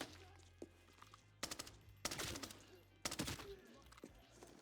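Gunfire in the shooter game Arena Breakout Infinite, several sharp bursts of automatic fire in quick succession, fairly loud against a low background hum.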